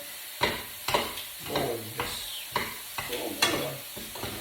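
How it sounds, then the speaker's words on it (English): Spaghetti is tossed in a pan of sizzling cream sauce with salmon and prawns, making repeated close scraping, sloshing stirs about every half second over a steady sizzle. "I'm just going to toss the spaghetti a little bit."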